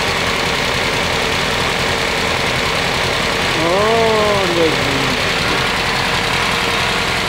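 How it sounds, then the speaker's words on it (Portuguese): Ford Del Rey engine idling steadily just after its first start following a rebuild, a continuous low rumble throughout with a voice speaking briefly over it midway. "a primeira partida do carro funcionou"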